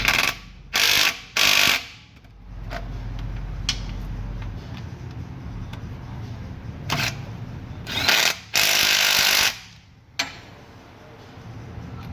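Bolts of 14 mm on an Infiniti Q50/Q60 transmission being tightened during install, with several loud bursts of a power tool or ratchet, the longest near the end, between quieter mechanical clicks and hum, no speech.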